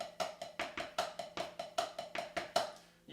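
Drumsticks playing a loose, relaxed eighth-note groove on a practice pad, with steady, evenly spaced taps and slight accents, fairly quiet and close, with no talking.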